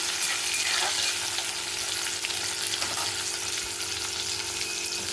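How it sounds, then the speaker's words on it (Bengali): Continuous crackling sizzle of vegetables, including bori, tomato and green chilli, frying in hot oil, steady and close, with no talking. "দিয়ে আমি এটা ভেজে নেব"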